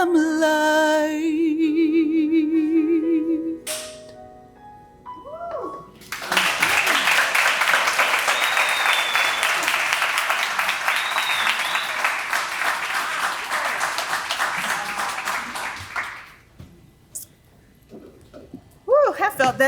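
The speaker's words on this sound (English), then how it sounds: "Another round of applause" Audience applause at a ribbon cutting ceremony for Lotus Essentials in Portsmouth, Virginia, a loud burst of clapping and cheering lasting about ten seconds after a stretch of music and voices, then fading into talk.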